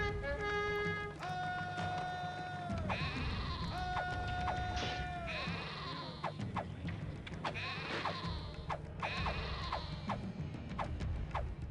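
Sheep in the Caesar 3 video game let out a series of clear, repeated bleats, several overlapping calls in quick succession over a low game background.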